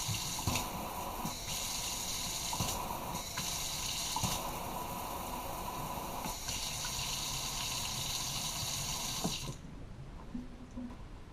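Water sprays steadily from the sprayer head of a Kohler Mazz K-R72511-SD kitchen faucet into a sink, a loud continuous gush with brief shifts in flow, then cuts off near the end, leaving quieter room noise.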